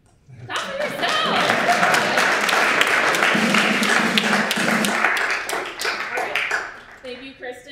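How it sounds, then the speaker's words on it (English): An audience at a jazz society guest recital in a music conservatory breaks into loud, sustained clapping for several seconds, swelling quickly and then tapering off as a voice comes in at the end. "Clap for yourself!"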